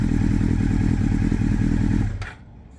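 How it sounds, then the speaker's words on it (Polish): Motorcycle engine idling with a steady low throb, then cutting out abruptly as the side stand is lowered, followed by a brief clack and near silence. "wystarczy, że rozłożymy naszą stopkę boczną i motocykl zgaśnie"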